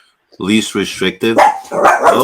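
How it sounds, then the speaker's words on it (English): A dog barks in four quick, loud, close yaps, then breaks off as a person starts talking. "that's the dog."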